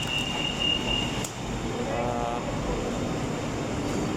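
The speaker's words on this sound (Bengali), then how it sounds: "এখন ট্রেনটি ছেড়ে চলে যাবে" A Bangkok metro train at Nana station, with a steady loud rumble and hum of the train beside the platform, a high electronic tone near the start and a shift in the drone partway through as it prepares to pull out.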